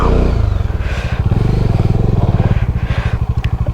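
A motorcycle rides along a rough forest path, its engine loud, close and steady with a rapid thumping pulse and clattering over uneven ground throughout.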